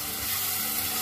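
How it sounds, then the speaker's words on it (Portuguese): Chopped onion sautéing with seasonings in a pan for a chicken gizzard and tomato dish, a dense continuous sizzle filling the whole moment, loud and close with no talking. "é refogar aqui um bocadinho esta nossa cebolinha junto com os temperos"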